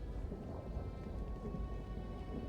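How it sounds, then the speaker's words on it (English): A thunderstorm on Mars in the video game Starfield, heard as a steady, dense roar of rain with low rumbling thunder, constant and fairly loud with no voices. "pretty nasty storms"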